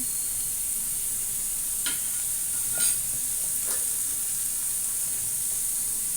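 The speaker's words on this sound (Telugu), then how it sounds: "ఒక్క థర్టీ సెకండ్స్ ఉల్లిపాయలు మరి కొంచెం వేగితే సరిపోతుంది" Onions frying in a pan with salt, chili powder and turmeric make a soft, steady sizzle and hiss, with a few faint stirring scrapes and clinks close by.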